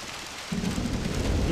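Rain falling steadily in the video game Mafia, a dense hiss that thickens after a moment with a low rumble of thunder underneath.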